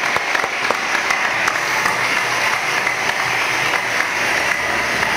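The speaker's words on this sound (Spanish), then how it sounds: "vamos a dar un fuerte aplauso al director de comunicaciones estratégicas de la Policía Nacional" Audience applauds the director of strategic communications for the National Police at the start of an interview, a steady, dense round of clapping at even loudness throughout.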